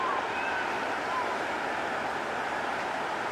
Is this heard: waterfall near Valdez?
yes